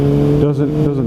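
A 2007 Honda CBR600RR sport bike engine drones steadily under throttle, a close, loud, even hum heard beneath a talking voice.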